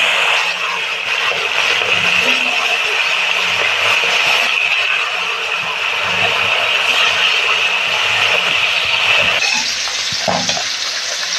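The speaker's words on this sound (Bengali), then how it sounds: "এবার মাছগুলো ভেজে নেব।" Fish fry in hot oil in a home kitchen, giving a steady, loud sizzle and crackle throughout. There are occasional stirring scrapes and no talking.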